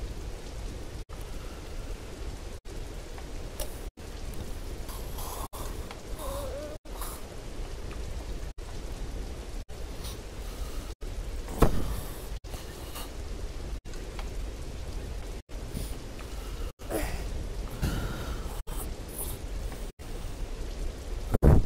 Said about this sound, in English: Oh, lovely. Lovely, it's raining.